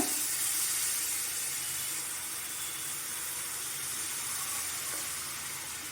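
Sugar syrup poured into roasted wheat flour for halwa hisses and sizzles steadily in the hot pan, a close, bright frying sound that eases slightly after the first couple of seconds.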